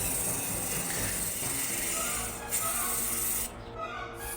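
A spray paint can hisses steadily while coating model kaiju diorama buildings, a close, continuous airy spray that cuts out near the end.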